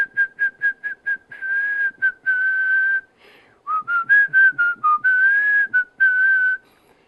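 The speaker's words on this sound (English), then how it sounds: "maybe you can also make whistle noises and whistle sounds in songs" A person whistles the melody of a song, sustained and clearly pitched notes rising and falling in short phrases with brief breaths between, close and loud with no talking.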